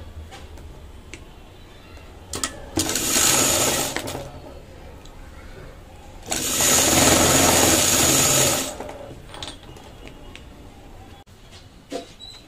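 A sewing machine stitching a folded neck strip for a blouse runs in two short bursts, each about two seconds of fast, close whirring, with quiet pauses between.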